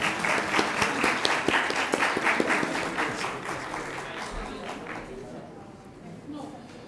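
Audience applause at an award ceremony for a reading olympiad, a loud burst of clapping from a crowd that gradually thins and fades over several seconds, with no speech over it.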